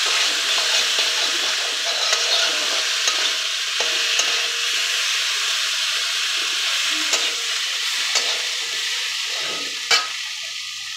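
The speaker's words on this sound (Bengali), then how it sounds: "লবণ দিয়ে চলছে ভাজাভাজি।" Food fries in a pan with salt added, a loud continuous sizzle close by, broken by occasional scrapes and clinks of a spatula stirring.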